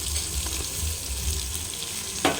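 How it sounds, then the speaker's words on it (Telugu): Tomatoes sizzle steadily in a hot pan of oil and salt while a mutton head curry cooks. A dense, even frying hiss runs throughout, with a brief louder crackle near the end. "ఇప్పుడు టమాటా వేసుకుందాం"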